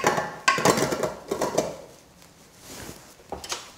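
A mixing bowl holding flour, salt, butter and water for gluten-free pie pastry is set back onto a stand mixer, giving a cluster of close clattering knocks and thuds followed by quieter handling noises.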